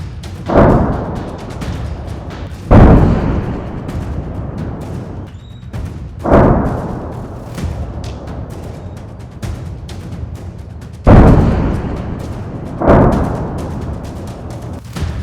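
Israeli strikes on Hezbollah positions in Lebanon set off about five heavy, booming explosions at irregular intervals, each a sharp loud thud trailing into a rumbling decay over continuous low background noise.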